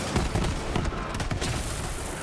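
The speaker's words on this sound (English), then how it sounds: "Rocket salvo." Rocket salvo explosions in the shooter video game Borderlands 3, a dense rumbling burst of overlapping booms and blasts over about two seconds, fairly loud with no talk.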